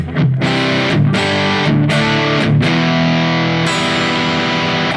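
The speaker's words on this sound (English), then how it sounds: "that's the PV distortion version of that same amp" Heavily distorted electric guitar through a Mooer GE150 Plus amp preset plays loud, sustained chords, with a few brief breaks between strums before a final ringing chord.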